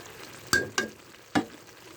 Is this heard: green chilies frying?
yes